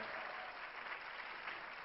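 Steady applause from an audience filling the room for students, even and continuous with no voices standing out, at moderate loudness throughout.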